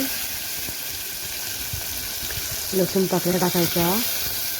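Garlic cloves are dropped into a hot dal tempering with green chillies and sizzle steadily and moderately loud. A brief voice-like tonal passage rises over the frying near the end.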